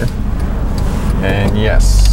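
Traffic rumbles on a roadway as a car passes nearby during a right turn at an intersection, a steady engine and tyre drone under someone talking from inside the vehicle.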